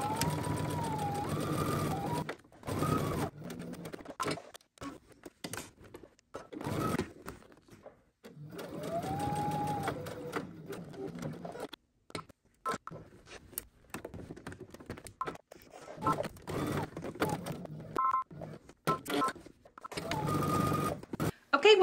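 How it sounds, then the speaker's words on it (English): Home sewing machine stitching around a jacket's lining, collar and front edges, running in steady mechanical bursts with short pauses between, close and fairly loud. "I'm gonna go ahead and start sewing"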